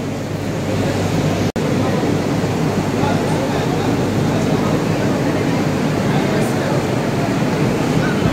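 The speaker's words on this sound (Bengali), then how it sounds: "এই রইল AC train, AC local train." A Sealdah-Ranaghat AC EMU local train runs with a loud, continuous broadband rumble and rushing wind noise, broken only by one brief dropout, while someone talks over it.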